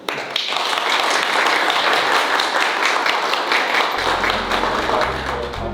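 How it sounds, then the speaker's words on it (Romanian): Wedding guests applaud the newlyweds right after the civil ceremony pronounces them married, a dense, steady burst of many hands clapping close by, with a low hum entering near the end. "Îți aplaudăm."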